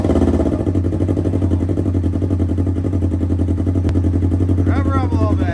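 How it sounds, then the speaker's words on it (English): A Polaris engine fitted with a GGB Center Exit Sport Pro exhaust idles with a loud, deep, steady rumble right up close, and a voice speaks briefly over it near the end. "All right, let's fire it up and hear this."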